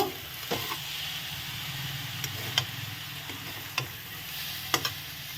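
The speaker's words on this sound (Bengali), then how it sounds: "এই যে আচারটা দিয়ে দিলাম, দিয়ে একটু নেড়ে নেব।" A spatula stirs pickle into a mankochu (taro stem) ghonto in a pan over a soft, steady sizzle, with a few sharp scrapes and taps spaced out across the clip.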